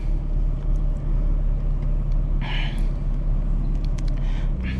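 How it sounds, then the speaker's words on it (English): A BMW on a budget exhaust setup burbles and rumbles steadily from inside the car, a low continuous engine drone with a few faint crackles toward the end. "let's go ahead and do it in manual so I can kind of control the burbles better"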